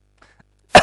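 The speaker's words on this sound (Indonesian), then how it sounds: "Aduh batuk kudus." A single short, forceful cough bursts out near the end after a near-silent pause, close and loud, with only faint breathy murmurs before it.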